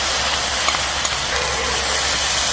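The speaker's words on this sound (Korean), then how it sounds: "재료들을 잘 섞어가면서 볶아주세요" Fish cake, onion and seasoning sauce stir-fry in a hot pan. A loud, steady hiss of sizzling continues without a break, close up and with no talking.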